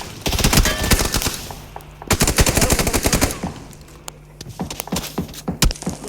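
Rapid automatic gunfire in a video game, loud and close, with long bursts of fast repeated shots broken by short pauses and a few scattered single shots near the end.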